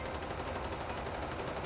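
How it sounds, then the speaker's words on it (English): Rapid continuous gunfire fills a battle in the video game Space Engineers, a dense rattling stream of shots with no pause, moderately loud and heard without speech. "There's far too much gunfire."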